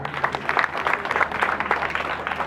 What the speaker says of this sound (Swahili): Tumpe makofi mjomba.